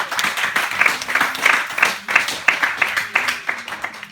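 A church congregation applauds and acclaims during a worship service: a crowd of hands claps in a loose rhythmic pattern, moderately loud and steady, with cheering voices mixed in under the clapping.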